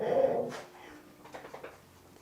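Orca, a studio dog, gives a brief, soft whimper up close, a short whiny breath followed by quieter snuffling sounds in a quiet room.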